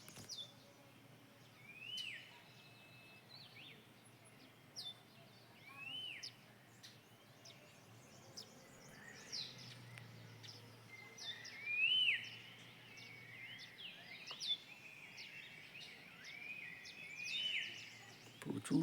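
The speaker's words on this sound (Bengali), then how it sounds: "সকালে শুধু ঘুম ভেঙে গেল আমাদের বিভিন্ন পাখির ডাকে।" Various birds calling in the early morning at Rishop, a hill village, with scattered chirps, whistles and trills from several birds at a distance, faint and spread out over a quiet background with a soft insect hum.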